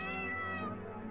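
A cat in a video game gives a single drawn-out meow, loud and close, with no talk over it.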